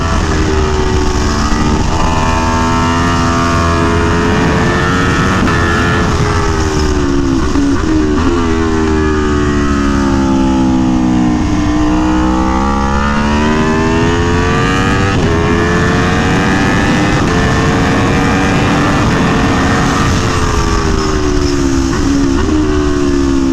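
An Aprilia Tuono V4 Factory sport motorcycle engine revs continuously and loudly on a race track, pitch rising and falling as the throttle opens and closes through gear changes.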